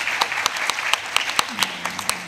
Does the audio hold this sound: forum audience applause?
yes